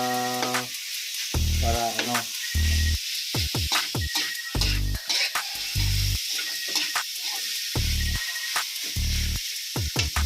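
Meat sizzles loudly in a hot pan as it is sautéed, a steady frying hiss broken by repeated clanks and scrapes of stirring, with a few brief words spoken over it.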